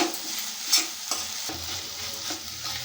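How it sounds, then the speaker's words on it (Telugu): Amaranth leaves stirred in a hot pan as they fry, a steady close sizzle with scraping strokes of a spatula breaking through at intervals. "క్యాప్ తీయాలి, కలుపుకోవాలి."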